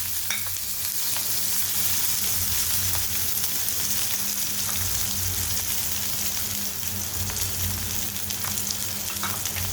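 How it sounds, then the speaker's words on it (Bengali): Whole cumin seeds and chopped onion frying in oil in a pan, a steady dense sizzle with faint crackles throughout, close and continuous with no speech. "জিরেগুলোকে হালকা একটু ভেজে নিচ্ছি। তার মধ্যে আমি দিয়ে দিচ্ছি পেঁয়াজ।"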